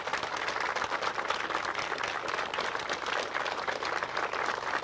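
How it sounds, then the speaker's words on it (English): An audience at an outdoor school reunion applauds in a steady, continuous wash of many hands clapping, moderately distant and fairly quiet throughout. "I'd ask everybody to put their hands together and give them a round of applause."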